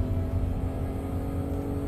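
A restored Jaguar XK150 engine hums steadily at low revs with a smooth, even drone and no clear climb in pitch.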